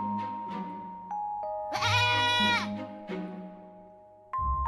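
Cartoon goats bleat in clear, wavering cries, with a long loud bleat in the middle over sustained musical tones, and no speech.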